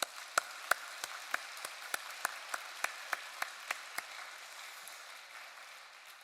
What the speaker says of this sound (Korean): 우리 대응이 주는 박수로 환영하도록 하겠습니다